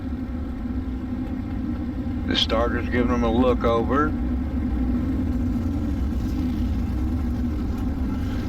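Dirt street stock race car engines in the iRacing simulator idle as a steady low rumble throughout, lined up two by two, while a commentator speaks over them partway through.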